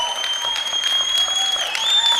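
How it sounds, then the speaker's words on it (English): Audience applause at a political conference, a steady crowd clapping that runs the whole way through beneath a sustained tonal hum or whistle. "Give him another round of applause."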